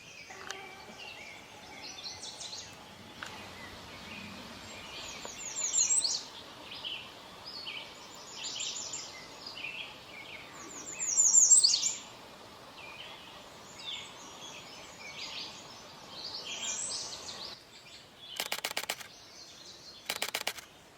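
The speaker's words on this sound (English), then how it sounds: "that male redstart singing with the gape wide open" A male American redstart sings in the wild, its short high-pitched phrases repeating every few seconds at moderate distance over a quiet outdoor background.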